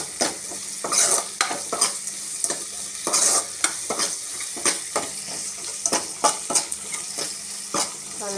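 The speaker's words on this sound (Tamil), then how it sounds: "வெங்காயம் நல்லா வதங்கணும் ஃப்ரெண்ட்ஸ், வதங்கட்டும் ஃப்ரெண்ட்ஸ்" Onions sauté in a pan for tamarind curry, with a constant sizzle broken by frequent sharp scrapes and taps of a spoon stirring against the pan, close and fairly loud.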